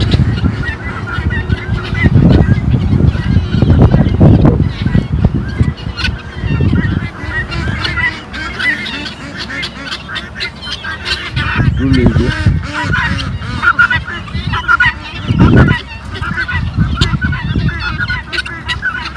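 Ducks and ducklings on a farm, a mother duck with her young, give loud repeated honking quacks in bursts over a steady flock chatter, fairly close throughout.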